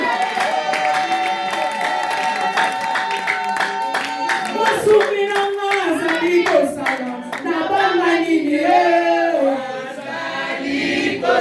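A church congregation at a Sunday service claps and cheers, loud and sustained, with music and voices mixed in throughout.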